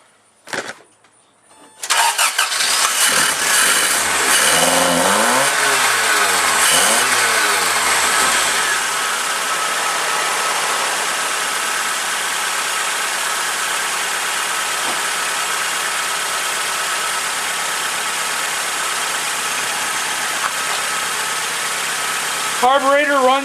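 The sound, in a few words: Toyota AE86 carburetor engine starting and idling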